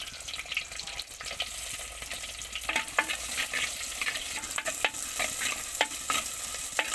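Onion, fenugreek seeds and curry leaves frying in hot oil in a clay pot, a steady sizzle with scattered crackles and pops and occasional stirring scrapes, close and moderately loud, no talking.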